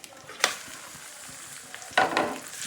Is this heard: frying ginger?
yes